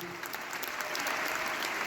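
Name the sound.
concert audience applause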